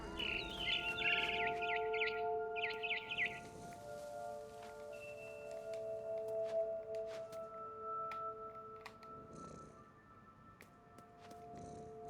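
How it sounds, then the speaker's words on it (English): Faint, high bird chirps and trills from What Remains of Edith Finch come in short bursts over a quiet background with soft sustained tones, bright and slightly artificial. "Then I heard chirping outside my window."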